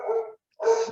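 A dog gives two short, loud barks close by, separated by a brief silence.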